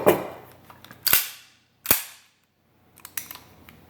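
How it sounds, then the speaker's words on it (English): A Kimber Custom II 1911 .45 ACP pistol is cleared with sharp, close metallic clacks of the slide and action, followed by a pause and lighter clicks of handling. "first let's go ahead and clear the weapon just to show there's nothing in it."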